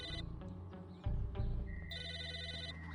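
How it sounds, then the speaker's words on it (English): In the Psychonauts video game, an electronic telephone trill rings out over layered game music, with one burst at the start and another toward the end. "That's a phone ringing,"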